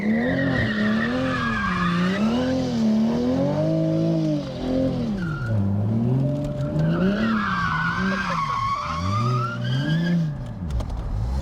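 A Nissan GT-R accelerates hard, its engine note rising and falling in repeated surges while tires squeal loudly and continuously over the roar, close and sustained throughout with no talking.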